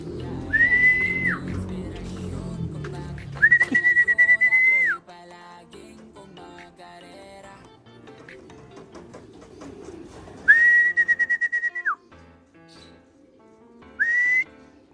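A person whistles to call racing pigeons home, several long steady high whistles with bends at the ends, clear and close, with low outdoor rumble and bird sounds between them.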